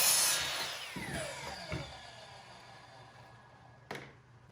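A saw trims the pointed tips off small wooden legs set against a stop block for a miniature corn maze, giving a faint, quick cut near the start and another brief cutting burst near the end.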